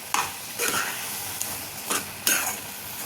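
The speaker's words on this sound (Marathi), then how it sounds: "थोडी साखर घालून आपल्याला ते छान मिक्स करून घ्यायची आहे." Carrot halwa being stirred with added sugar in a pan, giving several scraping, swishing strokes over a soft sizzle, close and fairly clear with no voices.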